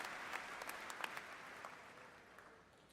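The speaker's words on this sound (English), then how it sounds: "Big round of applause." Faint applause at the SIU Carbondale spring commencement, scattered sharp claps over a soft crowd patter that gradually dies away, distant and quiet in a large hall.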